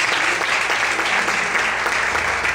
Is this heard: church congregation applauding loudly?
yes